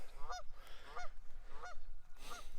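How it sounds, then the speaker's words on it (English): Four evenly spaced goose honks ring out, loud and near, each a short nasal blast over a low outdoor rumble. "He's honking the beat heck though."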